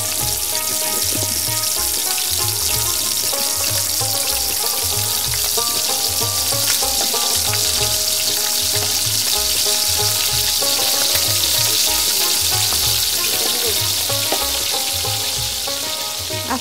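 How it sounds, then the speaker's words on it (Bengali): Brinjal fritters (begun bora) in a rice-flour, chilli, ginger, garlic and onion batter fry in hot oil in a wok, giving a steady, dense sizzle and crackle that holds close and loud throughout, with no voices. "কড়াইয়ের গরম তেলে এবার বড়া ভাজার পালা।"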